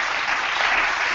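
A conference audience claps for a panel in a short, dense burst of even applause that stays steady throughout.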